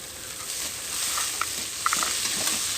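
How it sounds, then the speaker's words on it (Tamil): Chopped tomatoes with onion and dried red chillies sizzle steadily in a hot pan, with soft scraping stirs and small pops throughout and no talking. "பச்சை வாசனை போகிற வரைக்கும் வதக்கணுங்க."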